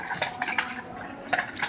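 A spoon stirs lemon juice and water in a kitchen, giving a few quick, light clinks and swishes in short, irregular bursts close by, with no talking.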